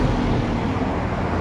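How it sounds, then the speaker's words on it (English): Loud, steady road traffic roars close to someone out walking, a dense continuous rumble with no distinct passing vehicles and no talking. "sorry about the traffic, it's really loud."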